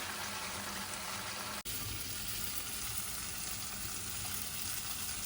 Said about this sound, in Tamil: பாருங்கள் எப்படி கொதிச்சிட்ருக்குன்னு. நல்லா எண்ணெய் வந்து மேலே கதக்குது.